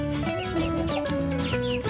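Chickens of the KUB and gaok breeds, two roosters and three hens, cluck in a steady run of short, close calls that overlap throughout.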